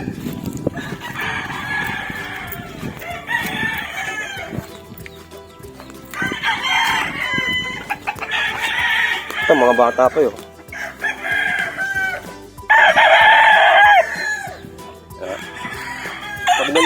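Gamefowl stag roosters crowing repeatedly at a game farm, loud overlapping calls near and far with clucking between them, while someone speaks briefly underneath.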